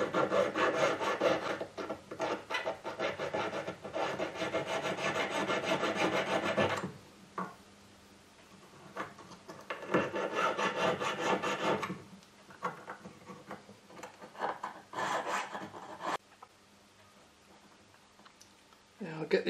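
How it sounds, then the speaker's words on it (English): A needle file rasps against the metal shoulder of a ring in close, rhythmic strokes, working in steady bursts separated by short pauses, with a voice speaking quietly in between. "now do the fine tuning with your needle files"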